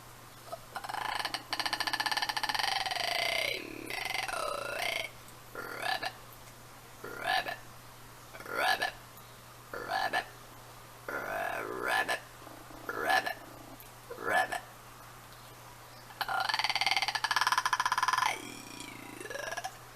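A human voice imitates a toad, making a series of creaky, rattling croaks in short bursts separated by brief pauses.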